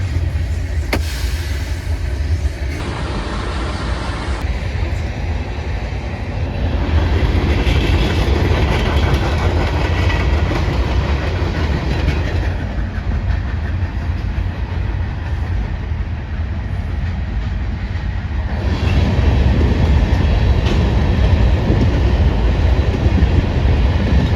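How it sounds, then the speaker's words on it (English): A train rumbles past continuously at close range, with a steady roar and rhythmic clatter of rail cars throughout. "Waiting on a train."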